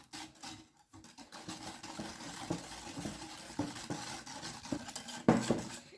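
A utensil stirs brownie batter with eggs and a pinch of salt in a bowl, giving soft repeated scraping and clinking against the bowl, quiet and close, with a sharper clink near the end.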